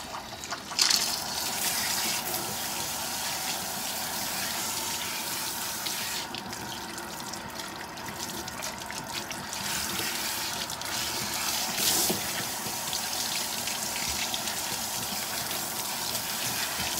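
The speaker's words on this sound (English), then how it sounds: "And then we'll use cool water to rinse her." Cool water runs steadily from a salon sink sprayer while hair is rinsed, a continuous close hiss and splash that shifts slightly in tone as the stream moves.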